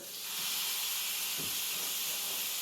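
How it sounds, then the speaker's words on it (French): Garlic sizzles in a frying pan as pork and beef are cooked, giving a steady, bright crackling hiss that holds at an even level throughout. "Ça se peut que ça fasse un peu de bruit, c'est normal, ça crépite, c'est ça qu'on veut."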